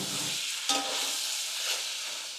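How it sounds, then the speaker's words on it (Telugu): Tomatoes hit hot oil and frying onions in a pan for a Nellore-style fish curry, a loud bright sizzle with a sharp burst as they land, then a steady crackle while stirred. "ఇప్పుడు టమాటాలు వేసుకుందాము."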